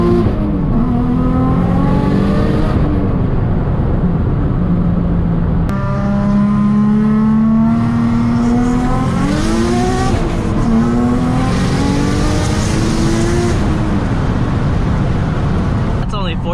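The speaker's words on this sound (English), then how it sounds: "So I'm just gonna do a small pull with brake boost to see if it holds." A boosted car engine climbs through a pull, revs rising steadily in several sweeping gear stages, loud and close, with brief shift breaks and people talking over it.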